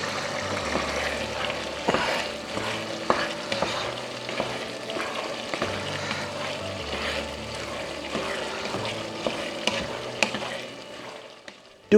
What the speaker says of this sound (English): Then let it simmer for few minutes, allowing the alcohol to evaporate while the flavor intensify.